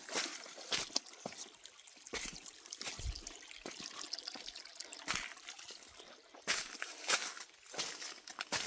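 Small waterfalls on a creek trickle steadily in a soft, continuous wash of water, with occasional brief splashes and no talk.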